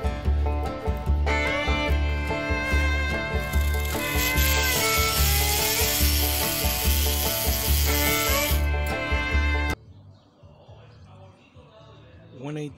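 An M12 cordless hacksaw running on a 6.0 battery cuts through one-eighth inch steel. It gives a close, steady buzzing whine with rapid rhythmic strokes for about ten seconds, then stops abruptly, leaving faint background noise.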